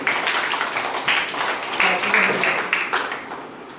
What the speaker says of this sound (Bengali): সবাই পূর্বাশার জন্য একটা হাত তালি